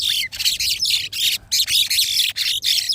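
Small pet birds in a rooftop garden chirp and twitter continuously up close, a busy flurry of bright tweets with only brief breaks.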